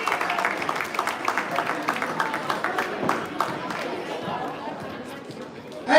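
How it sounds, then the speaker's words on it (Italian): Crowd at an under-15 regional boxing tournament applauds the best boxer, a dense, fairly distant wash of clapping with chatter and a voice over it, fading slightly toward the end. "Grande applauso"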